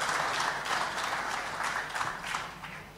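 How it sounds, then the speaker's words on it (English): Applause at a regional address event, a sustained crowd clapping that holds steady and then begins to fade toward the end, with no speech over it. "Let's give Jama another round of applause."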